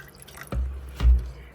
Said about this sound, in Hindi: अब इसमें मैं थोड़ा सा और पानी ऐड कर देती हूँ।